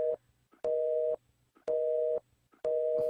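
Telephone busy signal after a call cuts off, three evenly spaced tones, each about half a second long, separated by short gaps, clear and alone against quiet.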